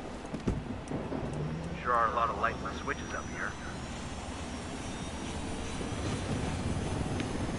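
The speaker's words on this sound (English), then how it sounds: "Okay, there's a helicopter nearby." A helicopter in the video game Ghost Recon whirs faintly in the distance as a low, continuous drone beneath game sounds, with a person talking over it.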